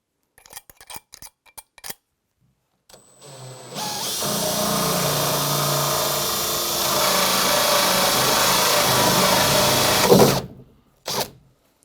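A power drill whines steadily for several seconds, drilling a hole through a plastic bath, after a few short clicks and taps, then stops, followed by brief handling noises.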